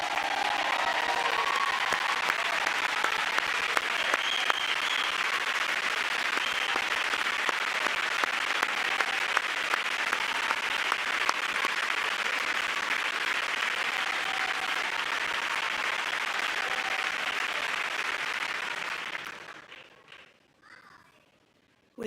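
Sustained applause fills a joint session of Congress during a presidential address, a dense, loud wash of clapping from a large crowd that holds steady for about nineteen seconds, then quickly fades to near silence.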